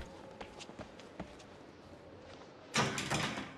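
A door opening in the horror game Outlast: a few faint footsteps and creaks, then a louder, sustained rush of the door swinging open near the end.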